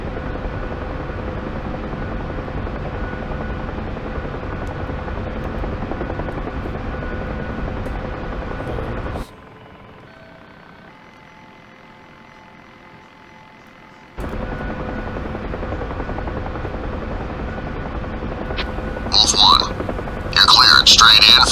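UH-1 Huey helicopter in the DCS flight game, a steady loud rotor and turbine drone, close and continuous, dropping out briefly to near silence before returning, with crackly radio voices near the end.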